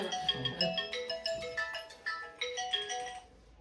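A phone's ringtone plays a bright, repeating electronic melody of quick chiming notes for about three seconds, fairly close and clear with no voices, then cuts off.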